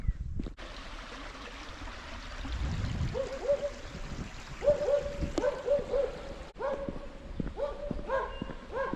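A dog barking while hiking along a paved road through a village on the Śnieżnik massif, short yelping barks repeating from close by over outdoor ambience and footsteps.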